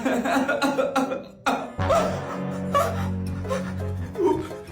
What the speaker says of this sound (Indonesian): Cuman batuk biasa doang kok tadi.